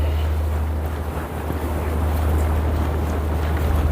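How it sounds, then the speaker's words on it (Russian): Strong wind gusting along a Moscow street, a steady roaring buffet of air against the microphone, loud and continuous with a low rumble underneath. "О, ветер начался."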